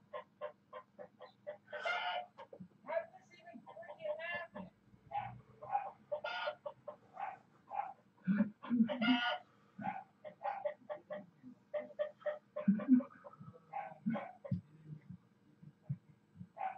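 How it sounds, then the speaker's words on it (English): A rooster crows and clucks repeatedly in short, close bursts, with other fowl adding a busy, uneven patter of calls indoors. "Why are you so afraid of the rooster?"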